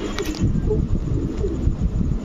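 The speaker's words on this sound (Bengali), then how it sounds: "আমি দেখেন, দেখছেন কবুতর।" Pigeons cooing close by, several soft repeated coos in quick succession with faint background murmur.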